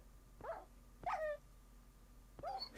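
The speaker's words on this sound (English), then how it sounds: "And I hear my dogs dying actively." Dogs in Minecraft whimpering while dying, three short high yelps spaced about a second apart, faint against quiet background hum.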